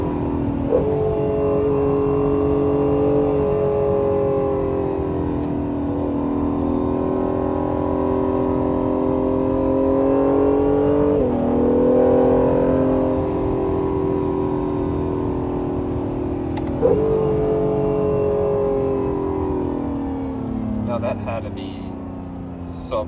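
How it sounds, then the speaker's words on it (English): An Acura NSX sports car engine roars and climbs steadily in pitch through several gear shifts under hard acceleration, loud and close from inside the vehicle. "3 seconds, 0 to 60. Yes, that's what this car will do."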